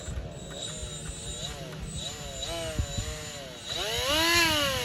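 A right angle die grinder, rated up to 24,500 RPM and used for trimming horses' hooves, hums with a wavering whine that climbs sharply louder and higher near the end, with faint voice-like murmur underneath.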